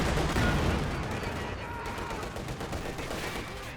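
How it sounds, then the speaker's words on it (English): Gunfire during a Company of Heroes 2 battle between Ostheer and Soviet armies: dense, continuous rattling shots and rumbling blasts layer into a loud, sustained barrage with no clear pauses. "the Grenadiers are taking quite a bit of fire there"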